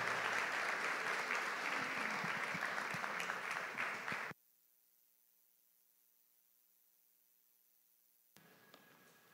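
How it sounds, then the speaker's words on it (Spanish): A church congregation welcomes a special guest preacher with strong applause, steady clapping for about four seconds that then drops abruptly to a low mains hum before faint room sound returns. "vamos a recibirlo con un fuerte aplauso"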